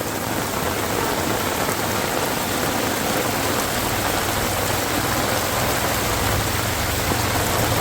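Steady heavy rain pours onto a waterlogged street in Jamnagar as rainwater flows through it, a constant dense hiss with no break and no talk.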